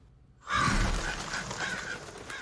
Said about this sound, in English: Why do birds be so goddamn loud when they take off?